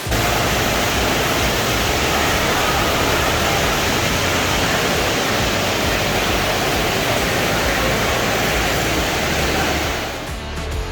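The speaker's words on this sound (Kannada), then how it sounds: "ಈ ಫೌಂಟೇನ್ ಹತ್ರ ಕುತ್ಕೊಂಡು ಈ ನೀರಿನ ಶಬ್ದನ ಕೇಳಿಸ್ಕೊಂಡು ಹಾಯಾಗಿ ರಿಲ್ಯಾಕ್ಸ್ ಆಗ್ಬೋದು" The Fountain of the Gods in Las Vegas gives off a loud, steady rush of falling and splashing water, a continuous close wash of sound with no talking.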